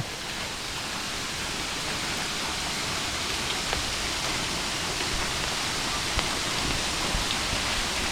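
A forest waterfall roars in a dense, unbroken rush of falling water, loud and constant with no voices.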